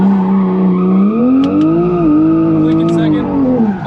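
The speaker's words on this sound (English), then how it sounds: "let's try an in-drift upshift if we can somewhere" A BMW E36 drifts with a loud, sustained tire squeal whose pitch rises and falls while the engine drones underneath; a brief break midway suggests a gear upshift. Close and continuous, with a voice heard over it.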